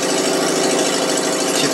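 A UZAM 412 car engine, fitted in a homemade pickup, runs on its first start with no muffler, giving a loud, raw, steady mechanical roar close by.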